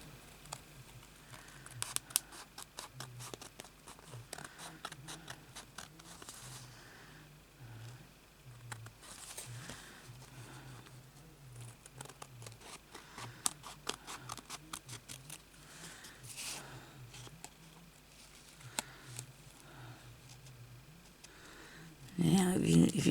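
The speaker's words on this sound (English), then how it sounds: "Now we'll cut up along here. This time try to go nice and straight, Sonia." Scissors make many close, crisp snips while cutting paper for an envelope, with small rustles and a voice talking at times.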